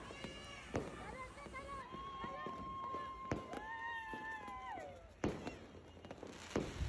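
New Year's Eve fireworks burst just in front of a house, with sharp scattered bangs and long whistling tones rising and sliding between the pops.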